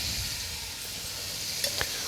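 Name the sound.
dried fish frying with chili and onions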